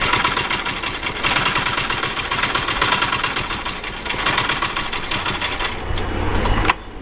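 A sewing machine stitches a folded belt loop for men's trousers, running in a steady continuous whir for several seconds with brief pauses and speed changes, near and fairly loud, no voices.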